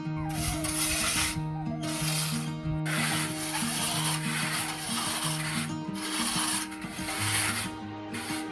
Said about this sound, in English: So we are doing the plaster today. As you can all see, we are starting with the ceiling plaster.